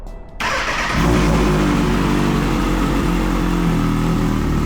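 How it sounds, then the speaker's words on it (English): A 2014 Kawasaki ZX-6R motorcycle engine cranks and fires up, then settles into a loud, steady, throbbing idle close by. "this bike is very loud"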